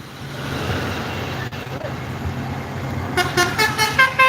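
An ALS intercity bus from Tangerang rumbles past with a steady low engine drone, then sounds a series of loud, rhythmic horn blasts in the final second or so.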